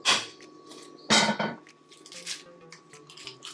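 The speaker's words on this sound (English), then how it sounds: "And it cracks it perfectly. Dropping it on the surface like that." Two eggs cracked by dropping them onto a kitchen surface, two sharp close cracks about a second apart, followed by faint clinks and kitchen handling noise, no talking.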